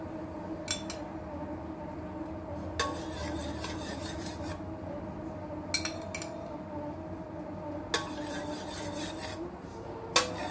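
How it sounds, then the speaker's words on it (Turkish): Milk is stirred in a pot while making homemade yogurt, with rhythmic scraping and rubbing strokes of a spoon against the metal and a few light clinks, fairly close. "Böyle karıştırıp kapağını örttüm."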